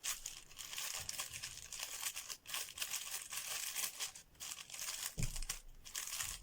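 Copper-colored tissue paper crinkles as a birthday gift is unwrapped by hand, a close, continuous rustling and crackling with irregular louder crunches and brief pauses, no speech.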